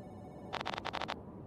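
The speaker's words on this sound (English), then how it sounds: "the phone's gonna ring" Telephone ringing in the Giraffe Town video game: a quick burst of six bright electronic ring pulses in two groups of three, then silence, fairly quiet over a soft background.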